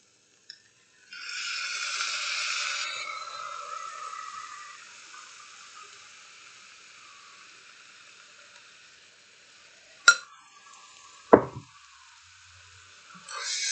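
Sloppy joe sauce is mixed into a Bisquick mixture in a baking dish: a wet, squelching stir for a few seconds, then a fainter soft rustle and two sharp knocks of the utensil against the dish.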